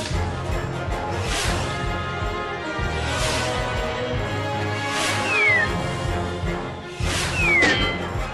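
An angry cat meows and yowls in the mobile game My Little Pony Harmony Quest, several short cries spread over game music and swishing effects, fairly loud.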